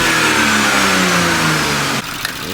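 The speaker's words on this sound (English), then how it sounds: "Now that we can free rev in neutral." An Audi S4 with a Stage 1 tune free revs in neutral, the engine climbing loudly and then falling back with a dropping pitch before settling toward idle, heard up close with the stock intake box.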